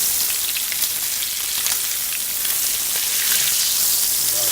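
Salmon with mustard and dill fries in a pan, giving a steady, close, crackling sizzle with no talking.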